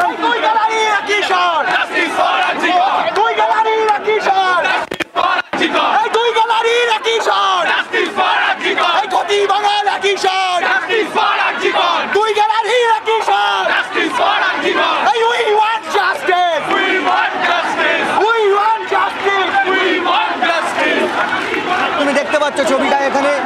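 Football supporters of Mohammedan Sporting, rallying at an RG Kar protest in Kolkata around the derby, chant slogans as a dense, loud crowd, voices rising and falling continuously with shouts and cries throughout.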